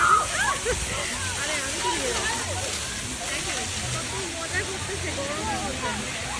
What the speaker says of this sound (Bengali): ফায়ার হাইড্রেন্টের পানি ছেড়ে দিয়ে দেখেন কি অবস্থা